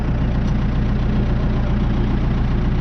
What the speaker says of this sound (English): So I've got my rev set, so we're just on a low rev.